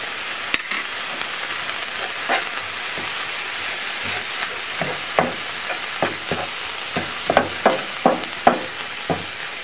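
Potato chop with parsley and spices frying in a pan, a steady close sizzle broken by repeated scraping, clinking stirs from a spoon or spatula, with no talking.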